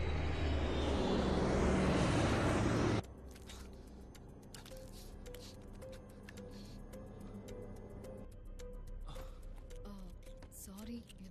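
A passenger airplane in flight through turbulence gives a loud engine roar that drops abruptly to a steady, quieter cabin hum, with scattered ticks and soft voices talking.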